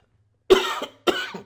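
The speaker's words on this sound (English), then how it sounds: "I feel a cough coming on" Two sharp coughs close to the listener, one after another with a brief pause between them.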